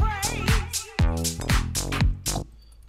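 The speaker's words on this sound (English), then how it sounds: "That's a real fat kind of 80s sound of bass," The Anavello bass preset on the VirtualCZ synth plays with automated DCW, giving punchy, fat 80s-style bass notes in a bouncy rhythmic pattern, each note attacking with a bright buzzy edge and sweeping tone, up front with no talking.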